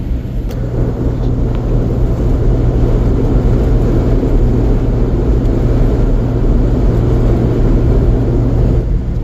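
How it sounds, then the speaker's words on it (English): Strong wind rushing over a parked or moving truck near a lakeside campsite, a loud steady low roar and buffeting rumble that fills the whole stretch without pause. "See if you can hear how brutal this wind is rushing over to the truck right now."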